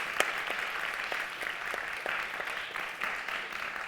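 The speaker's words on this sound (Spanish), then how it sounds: "un aplauso, de verdad, también para todos vosotros que habéis venido" Applause from an audience at a Spanish-language book presentation on politics, a steady wash of clapping that holds at an even level with scattered sharper claps for about four seconds.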